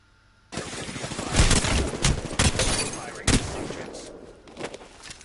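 Rapid, close Mastiff shotgun blasts ring out in an Apex Legends fight after a quiet start, loud overlapping booms packed into a few seconds that then trail off into scattered quieter shots.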